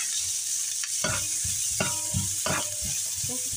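Garlic and onion sauté in a pan for pork kaldereta, with a constant sizzle and several distinct scraping stirs of a utensil against the pan, close and fairly quiet, with no talking.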